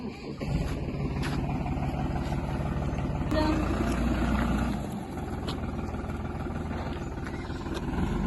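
A farm tractor engine runs at a village home, a steady close, throbbing rumble that holds level throughout with a slight dip partway.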